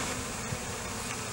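Honeybees buzz steadily at a hive where a comb has come loose from its frame and flopped over under the weight of bees and nectar, a continuous close drone with no talk.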